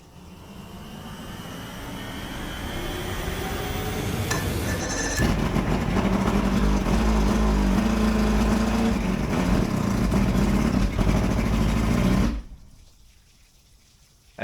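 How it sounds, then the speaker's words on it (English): A new boat's engine cold-starts at the marina: a cranking whine builds for a few seconds, then the motor catches and runs loud and steady before cutting off abruptly near the end. "this should replicate just driving to the marina and cold starting the engine."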